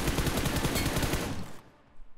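Rapid gunfire in BGMI, a fast burst of loud, close shots in quick rhythmic succession that cuts off abruptly, leaving a quiet tail with faint background noise.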